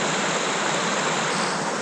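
Water of a snowy mountain stream flowing in a steady, close, broadband rush as hikers wade across it, a continuous loud wash with no voices.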